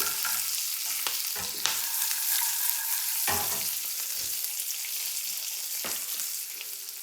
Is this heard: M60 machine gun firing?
no